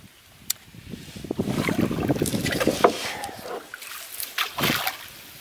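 Wind picking up over a lake, with gusty rushing and splashing water against a canoe, a steady rough wash that rises and falls over a few seconds.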